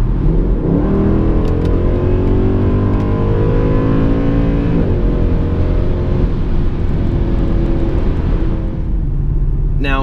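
A Mercedes-Benz W204 C63 AMG engine pulls hard under acceleration, its loud, steady roar rising in pitch as the revs climb, heard close up from inside the car with no talking.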